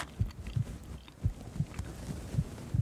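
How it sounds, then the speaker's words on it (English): Low-health heartbeat effect in the survival video game The Long Dark, a steady muffled thump-thump pulse beating roughly every third of a second, deep and close against a quiet background. "Health just slid into the red and I get the heartbeat going in the background."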